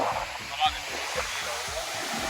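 Steady broadband wash of sea waves at a beach, loud and continuous, with a voice talking over it throughout.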